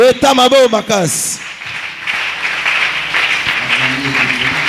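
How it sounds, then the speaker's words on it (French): A church conference congregation bursts into loud, sustained applause and acclaim right after a brief spoken line, the clapping dense and close and filling the rest of the moment. "on acclame le Seigneur. Acclamez très fort."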